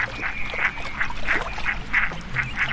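Mergansers hunting as a flock on a lake give repeated nasal quacking calls, around eight short bursts in quick irregular succession, fairly close over low background noise.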